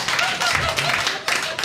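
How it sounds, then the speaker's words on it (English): A small stand-up comedy audience breaking into brief, thin applause from only a few people, short bursts of clapping with scattered crowd murmur in between. "3-person applause break."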